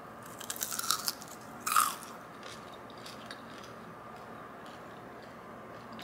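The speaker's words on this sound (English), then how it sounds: "I made some fried chicken to enjoy a live demo. The crunch," Crunchy homemade fried chicken bitten and chewed close by, a few crisp bites early and one louder crunch near the start, then quiet faint chewing with no talk.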